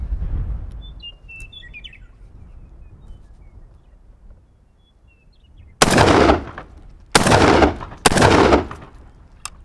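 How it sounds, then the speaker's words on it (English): Three loud, close gunshots from a GForce GF12AR semi-automatic shotgun firing high brass 2¾-inch shells, spaced about a second apart after a quiet stretch with faint outdoor birdsong. "Those three rounds there just went off perfectly through the GForce 12AR"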